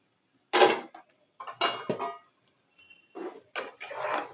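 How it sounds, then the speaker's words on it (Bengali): A cooking pot lid comes off a pot of fish roe and taro (kochu) fry, giving a few close metallic clanks and scrapes in separate bursts with short pauses, and no talking. "ঢাকনাটা খুলে"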